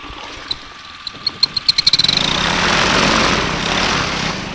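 A paramotor engine on a Dudek Solo unit pulls through a few spaced coughs and pops, then catches and builds to a steady, loud running drone close by, with no talking.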